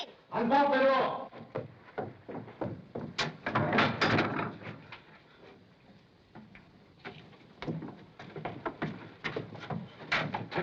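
A door is unbolted and opened in a 1936 mystery film set at a circus, giving a cluster of clicks and knocks in the middle, surrounded by several voices talking.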